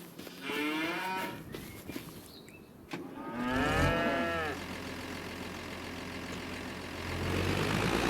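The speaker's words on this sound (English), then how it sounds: "We got ourselves some cattle." Cattle lowing in Farming Simulator 25: two long, drawn-out moos, the second louder and nearer, followed by a low, steady engine rumble idling underneath.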